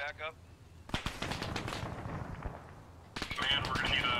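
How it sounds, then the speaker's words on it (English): Heavy machine gun firing in the video game ARMA during a Cold War era mission, loud rapid bursts with sharp gunshots and a sustained rattle, a voice talking between shots and a brief beeping tone near the end. "we're gonna need a Sickle, there's a fucking heavy gun"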